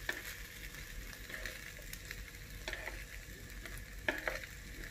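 Vegetarian rice noodles being stir-fried in a pan, a steady low sizzle with scattered scraping and clinking of a utensil against the pan, no voices.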